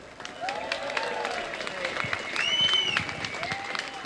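Audience applause at a political rally for a speaker, a moderate wash of clapping from a crowd heard under speech, with a voice rising over it midway.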